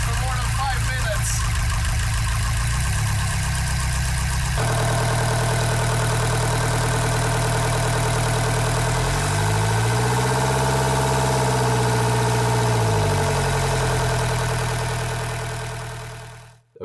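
A Mercedes 508D van engine running after a breakdown repair, idling with a steady low drone that shifts in pitch as revs rise and fall, then cuts off abruptly at the end.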